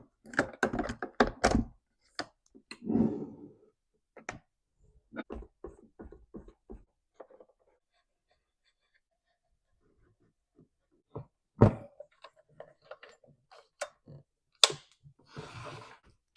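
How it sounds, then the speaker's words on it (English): A Stihl MS 462C chainsaw has its recoil starter fitted back on, heard as scattered close plastic clicks, knocks and thunks in short clusters separated by quiet pauses. "let's put the recoil back on"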